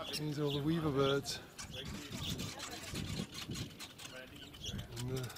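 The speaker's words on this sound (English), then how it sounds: "These are all the weaver birds." Several weaver birds chirp and call in short bursts in Kenya while a person talks over them nearby.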